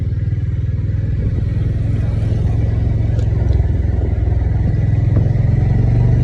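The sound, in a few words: Honda CB350 RS motorcycle being ridden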